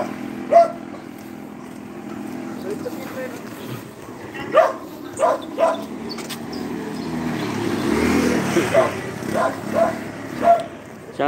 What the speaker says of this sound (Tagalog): Kakagatin pa ako ng aso.